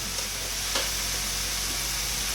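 Vegetables sizzling in a hot pan while being sautéed for Indo-Chinese veg fried rice, a constant close hissing fry with a brief stir scrape and no talking.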